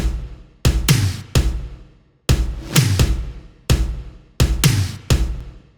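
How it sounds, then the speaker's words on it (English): Tom drums hit in a repeating pattern, booming low strikes with decaying tails, groups of two and three hits, loud and close. "for the second half of the drop, I added in some of these toms too"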